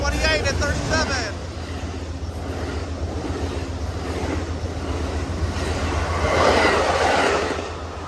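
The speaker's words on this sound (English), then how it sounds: "And there go that train to Los Angeles." An Amtrak Coast Starlight passenger train led by P42 diesel locomotives rumbles past nearby, a loud sustained roar with wheel and rail noise that swells toward the end, while someone talks over it.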